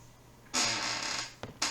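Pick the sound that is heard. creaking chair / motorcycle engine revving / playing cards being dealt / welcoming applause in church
creaking chair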